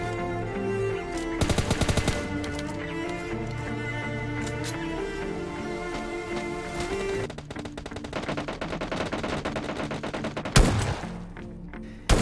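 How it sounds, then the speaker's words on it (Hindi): A fierce firefight in the PUBG Lite video game: dense, continuous automatic gunfire with rapid overlapping bursts and a few louder single shots, loud and sustained throughout. "देखो अब इधर पीछे क्या ही घमासान युद्ध चल रहा है।"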